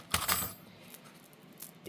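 A small bunch of keys jingles briefly at the start, a quick bright metallic clatter, followed by quieter faint clinks and soft room noise.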